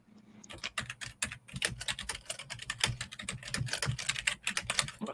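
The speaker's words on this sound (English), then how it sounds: "You type loud." Rapid, clattering keystrokes on a computer keyboard, close and fairly loud, typed in quick uneven bursts throughout.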